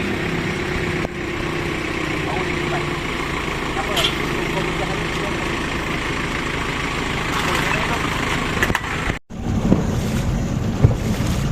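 Niken RIB 420 inflatable boat running out on the water off Port Klang, a continuous engine and hull rush mixed with strong wind buffeting the microphone, with people talking over it.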